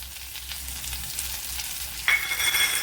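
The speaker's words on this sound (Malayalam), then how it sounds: "ഇനി ഇതിലേക്ക് ക്യാപ്സിക്കം ഇട്ട് കൊടുക്കാം." Capsicum frying in a pan hisses with a steady moderate sizzle, then a sharp metallic clink lands near the end as the pieces go in and the sizzle grows slightly louder.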